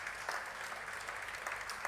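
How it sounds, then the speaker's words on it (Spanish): A church congregation applauds steadily in a dense, even wash of clapping that is fairly faint and distant throughout. "Dale un fuerte aplauso al Señor."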